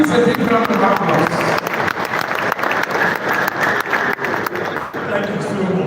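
Loud, sustained applause from a large gathering crowd fills the whole stretch, dense and steady with a few louder swells, while voices carry faintly underneath.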